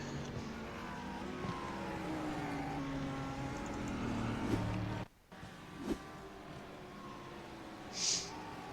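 GT3 race car on the Roval circuit, a steady engine drone with rising and shifting pitch as it passes, fairly loud and continuous before a brief cut and a quieter tail.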